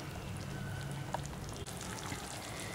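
A pot of onion sambar kuzhambu, a Tamil sambar onion gothsu, boils steadily at a close, moderate level, giving off a continuous dense bubbling and sizzling crackle with scattered small pops and no talking.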